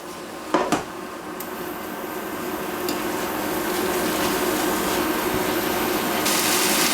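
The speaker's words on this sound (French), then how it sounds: "Et là, on mélange comme il faut." Chicken taco filling stirred in a hot pan: a couple of light utensil clicks at the start, then a steady, gradually building sizzle that fills the rest of the clip with no talking.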